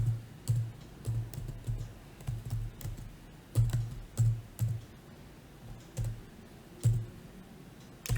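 Server login details are typed on a computer keyboard for an MT4 trading platform, heard as close, irregular key clicks and taps in short clusters over a quiet room, with no speech.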